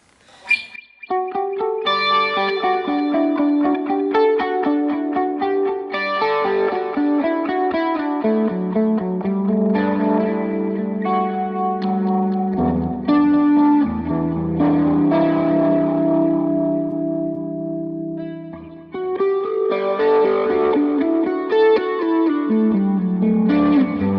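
Distorted electric guitar played through a Pod Express amp modeler plays chords and riffs through effects, with echo and a wobbly chorus shimmer, loud and continuous with a brief pause near the end.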